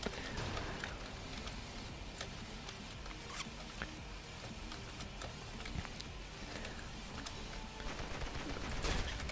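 Rapid gunfire in the shooter game Ravenfield crackles as a dense, steady patter of small shots over a constant noisy battlefield bed, with a few sharper cracks standing out and a louder swell at the end.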